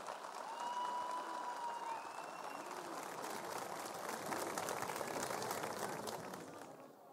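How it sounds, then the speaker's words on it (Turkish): A festival crowd applauds a mayor as he is welcomed onto the stage, with dense, sustained clapping that continues for several seconds before starting to fade. "Alkışlarımızla efendim Zeydan Karalar geliyor."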